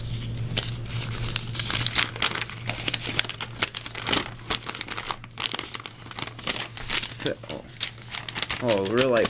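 A paper mail envelope holding trading cards is torn open and handled up close, with dense crinkling, crumpling and tearing sounds over a steady low hum.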